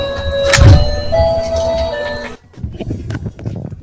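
Alarm clock ringing an arcade-like electronic jingle, with sustained tonal notes stepping between pitches over background noise, then stopping abruptly partway through.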